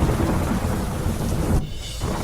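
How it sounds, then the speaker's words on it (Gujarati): Heavy monsoon rain in Gujarat's Patan district roars loud and dense, with deep rolling thunder running through it and a brief lull near the end. "કુકરાણામાં વરસ્યો વરસાદ."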